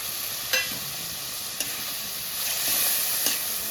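Tomatoes frying in a pan with cumin paste for a tengra fish curry: a continuous hissing sizzle marked by a few sharp utensil taps, and the frying swells slightly toward the end.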